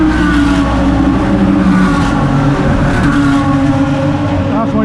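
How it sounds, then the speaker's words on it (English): A Ford Sierra racing on a track, engine roaring loud and steady throughout with harmonic drone and bits of tire noise as the car fishtails. "Oh, a bit of fishtailing."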